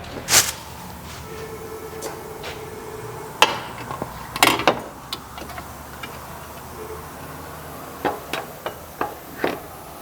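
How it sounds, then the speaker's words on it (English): A few sharp hammer whacks seat and lock an axle into place on a Subaru Outback front end, scattered metallic knocks spaced irregularly over quiet workshop background. "couple whacks, you hear it lock in"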